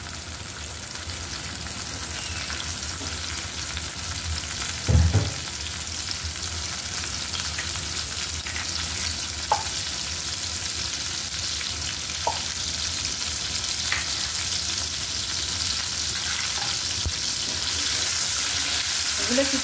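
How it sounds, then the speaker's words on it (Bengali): Onion and garlic frying in soybean oil in a pan, a steady hissing sizzle that continues throughout, with occasional knocks and faint clatters of utensils against the pan. "প্যানে আমি কিছুটা সয়াবিন তেল দিয়ে দিয়েছি। এবার আমি পেঁয়াজ, রসুন সব দিয়ে দিচ্ছি।"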